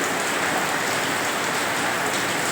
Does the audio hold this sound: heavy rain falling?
yes